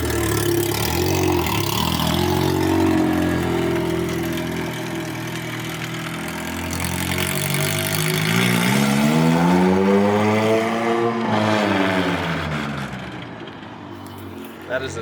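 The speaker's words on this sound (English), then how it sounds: "That is the sound heard around the world. Everyone knows what that is. Open headers. Open headers Honda." A K24-swapped Honda EK running open headers revs in a loud, raspy sweep that climbs and falls, with people talking over it throughout.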